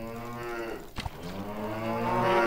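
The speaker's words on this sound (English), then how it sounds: "Oh my god, is that a cow?" Cow mooing in the video game Animallica: a long, loud, low bellowing moo that holds steady, breaks briefly with a sharp click, then resumes and swells toward the end, heard alone without talk.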